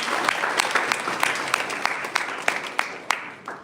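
Applause at a university department event slowly thins out. Dense clapping gives way to a few scattered, distinct claps that fade toward the end, with faint crowd murmur underneath.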